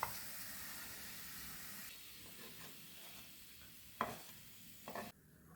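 Garlic frying golden in oil for idli podi gives a steady, close sizzling hiss, with a couple of brief stirring scrapes near the end before it quietens.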